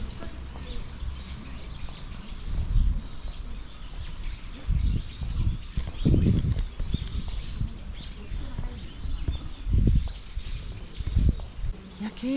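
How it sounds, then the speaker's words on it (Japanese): Birds sing and chirp steadily along the wide approach path of a large island shrine in Ehime, soft and fairly distant over rustling ambience, with a few louder low thumps like footsteps. "元気な鳥の声が響きます。"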